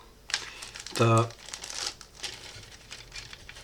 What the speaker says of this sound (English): let's see what we got in the bags here. It's a nice resealable bag